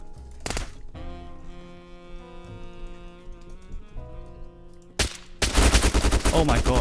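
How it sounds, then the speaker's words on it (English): Gunfire in the Roblox survival game Apocalypse Rising 2, a loud single shot followed by a tonal musical stretch, then another shot and a dense, rapid burst of automatic fire at close range. "where am I getting shot from?"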